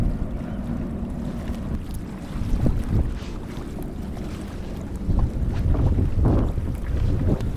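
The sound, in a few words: wind blowing around an anchored sailboat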